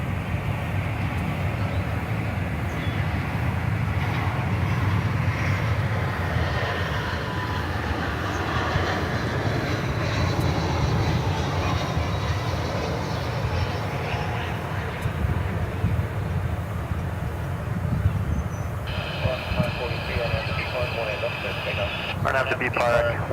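Airliner taking off at DFW Airport, a loud, steady engine roar that holds throughout, with tower radio chatter heard over it.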